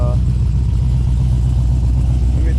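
A Pontiac GTO fitted with a Borla exhaust and cut-outs idles while warming up, a loud, steady low rumble with a faint voice briefly at the start.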